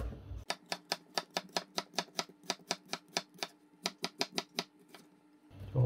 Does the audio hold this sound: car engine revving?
no